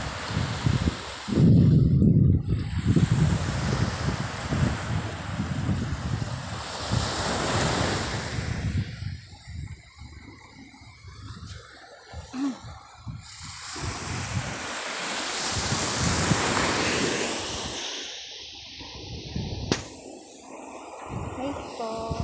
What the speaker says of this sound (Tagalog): Ang dagat.